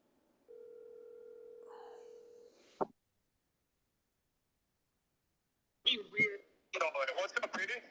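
A telephone dial tone sounds alone for about two seconds while a coworker is being called, ending in a sharp click, then silence before voices start talking.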